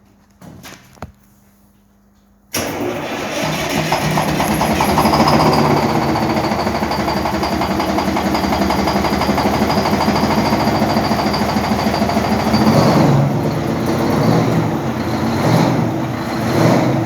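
An old pieced-together truck engine cranks briefly and catches, then runs loud and close with a rough, steady clatter for the rest of the time.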